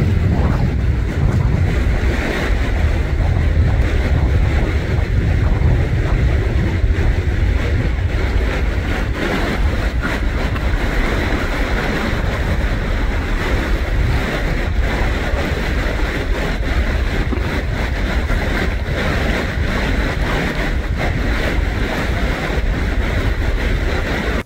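Loud river water rushing continuously near the microphone, a dense roar with wind buffeting, steady throughout with no break, in a snowy outdoor setting.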